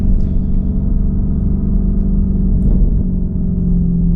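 Sports car exhaust barking at a showroom, a loud, steady low rumble of idling and revving engine held close and alone without voices.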